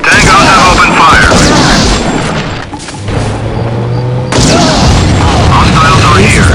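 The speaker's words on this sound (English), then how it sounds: "Tangos have opened fire." Dense, loud gunfire and heavy booms fill a battle in the video game Act of War, nearly continuous with a brief lull in the middle, while voices speak over the combat.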